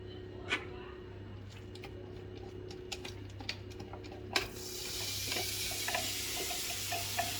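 Two onions hit hot olive oil in a pan over high heat. Light ticking and clicking comes first, then a fuller, steady sizzling hiss swells midway and carries on to the end.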